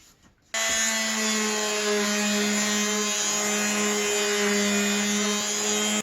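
A power sander starts up and runs steadily on PVC, a loud continuous whine with a rough abrasive edge against the surface.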